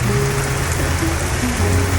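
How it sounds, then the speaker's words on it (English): Water pours steadily onto plants in recycled containers outdoors, making a loud, continuous splashing hiss with no break and no voices. "now all I'm doing is giving them some good watering"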